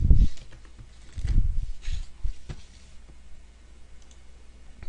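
Sparse mouse clicks while logging on to a school web portal: a few isolated, close taps with faint room noise in between and no talking.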